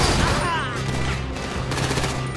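Rapid bursts of gunfire in GTA 5 rattle continuously, dense overlapping shots with a synthetic, game-like quality, loud and close throughout.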